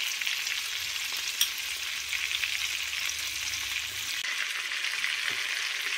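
Country fried steak sizzles and crackles steadily in hot bacon grease on a stovetop at medium-low heat, a dense, even frying hiss with occasional pops, close and alone.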